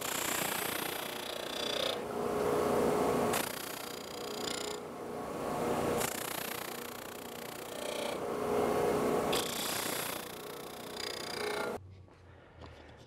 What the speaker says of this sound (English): now that we have everything sanded